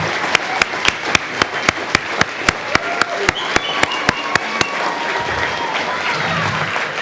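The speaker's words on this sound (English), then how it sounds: "A big round of applause for Tom and dinner" Applause for the host at a 2018 holiday party dinner, starting as a run of sharp, evenly spaced claps and swelling into a dense, sustained crowd ovation with a murmur of voices underneath.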